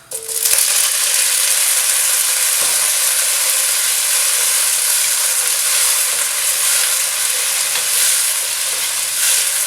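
Vegetables stir-fry over high heat in a hot wok, a loud, steady sizzle and crackle running unbroken from start to finish, with a few scraping stirs and no voices.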